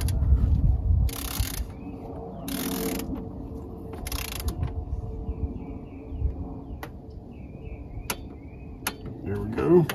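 A hand ratchet snugs down the four throttle position sensor bolts on a Chevrolet Silverado, giving several short broadband ratcheting bursts close by, spaced a second or two apart, over a low background hum and a few sharp clicks.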